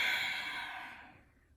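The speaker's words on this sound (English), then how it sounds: "take one last deep inhale, filling the lungs up, and on the exhale," A single long, deep exhale follows a full inhale during a guided body-relaxation meditation, a soft breathy rush that starts close and fairly clear, then tapers away into silence.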